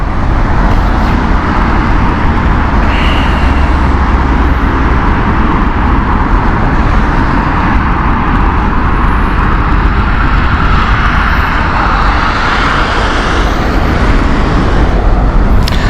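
Airliners come in to land at Heathrow Airport through mist and fog, a loud, steady jet roar that swells and lingers across the whole stretch, with faint road traffic beneath.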